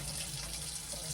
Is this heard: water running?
yes